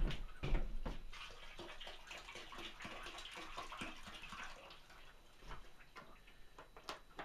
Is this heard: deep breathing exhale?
no